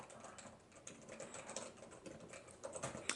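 Quiet keystrokes on a Topre Realforce Silent keyboard with silenced Topre switches, a steady run of soft, muffled taps at a brisk pace, close and alone with no voices.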